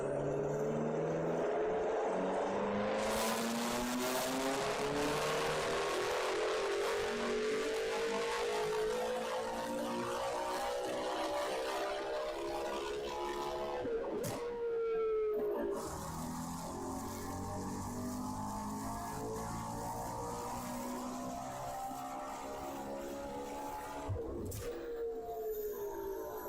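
A tuned car with an engine making around 650 wheel horsepower revs loudly, its roar climbing in pitch over many seconds, briefly cutting out and surging again, with occasional sharp bangs.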